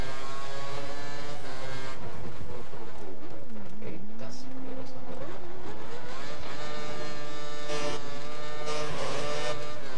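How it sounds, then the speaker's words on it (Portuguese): A Formula 1 race car engine in the F1 2013 video game revs and accelerates, a sustained high mechanical whine with pitch sweeps and gear shifts, loud throughout, with game commentary and a voice speaking over it. "Atrás de você está acelerando tudo e dando o máximo do motor."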